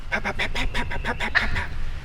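A friction turkey call cutting like an excited hen, loud and close, with a rapid series of about ten sharp, rasping yelps in an uneven, shifting rhythm and no voices.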